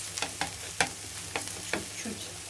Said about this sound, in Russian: Немного лук пожариваем.